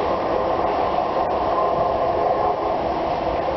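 A train pulls out of Newton Abbot station in Devon, a steady, fairly loud rolling rumble and rush of wheels and engine that holds even throughout.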